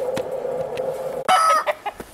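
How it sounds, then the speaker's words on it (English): Healthy homestead chickens, including Jersey Giants, cluck in a cold coop, with a steady low murmur of clucks, then a sudden louder squawking burst and a few trailing clucks close by. "Our chickens are healthy."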